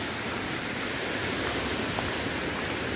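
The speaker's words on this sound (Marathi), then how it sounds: "हा बघा परत एक झरा." A small mountain spring stream in the monsoon countryside of Sangameshwar, Ratnagiri rushes and gurgles close by, a dense, loud, unbroken watery roar with no voices over it.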